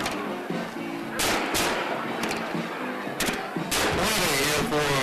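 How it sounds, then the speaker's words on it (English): Fireworks at a high school football game between Pulaski County and Whitley County: loud booming bursts and crackling explosions come in quick succession over a constant crowd roar. "And the fireworks, as you can tell,"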